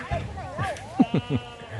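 Sheep bleating at an adventure park, a few short wavering calls close by, mixed with people talking and children's voices around them.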